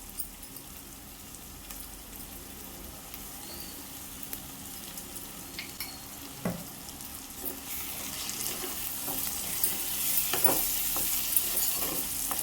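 Masala paste going into a pan of bangda fish curry and being stirred, a steady sizzle with soft scraping and occasional spoon knocks, building slightly louder toward the end.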